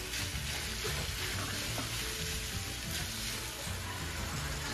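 Chicken sizzling steadily in a pan with serrano chile and tomato, a dense continuous fry with occasional stirring, loud and close.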